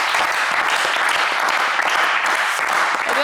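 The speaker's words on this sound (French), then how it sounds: "On vous applaudit, Ariel" Studio audience applauding a contestant on a French TV game show, steady dense clapping close and loud throughout, with no speech over it.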